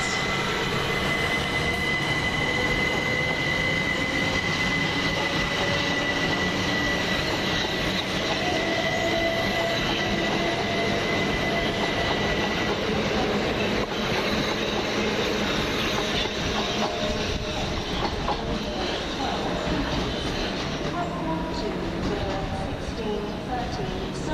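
A Class 377 electric train pulls out of East Croydon station with a steady, loud roll of wheels on rail, faint squeals and a rising whine, while someone talks over it.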